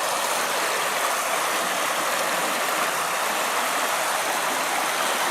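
Water rushes steadily beneath a slick bridge on a foggy night, a loud, continuous broadband roar like a stream or small falls, with no breaks and no voices.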